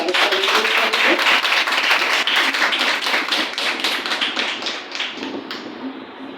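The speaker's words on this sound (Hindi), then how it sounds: "मैं चाहूँगी हम ताली बजा के उनका स्वागत करेंगे" Audience at a Sunday worship service in New Delhi clapping to welcome a speaker, a dense burst of rapid handclaps that stays loud, then thins and fades toward the end.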